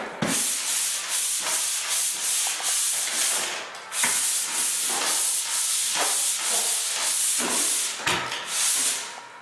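Continuous hissing scrape of sanding against a drywall ceiling, sweeping back and forth in steady strokes with brief pauses.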